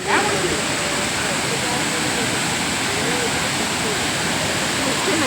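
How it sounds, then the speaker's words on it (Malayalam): Roaring Meenmutty waterfall at Kidamanoor, a steady, dense rush of falling water heard up close, loud and continuous with no pauses. "ഇതാണ് നമ്മുടെ മീൻമുട്ടി വെള്ളച്ചാട്ടം"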